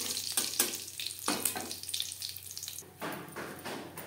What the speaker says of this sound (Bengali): 15-20 সেকেন্ড জিরে ভেজে নেওয়ার পর